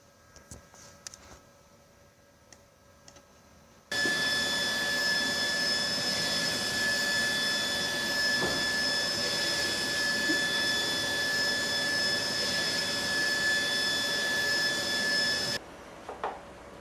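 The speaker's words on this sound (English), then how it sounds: "one click on the print button and the file is printing" A Mutoh 426UF UV printer running a print job with varnish ink, a steady mechanical whir and hum with a faint tonal whine that starts abruptly, holds evenly for about twelve seconds, then cuts off.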